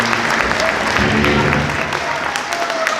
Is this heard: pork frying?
no